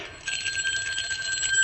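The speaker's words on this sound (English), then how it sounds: "I think the front doorbell just rang" A front doorbell rings steadily and fairly near, a continuous bright electric tone that holds for over a second with no voices over it.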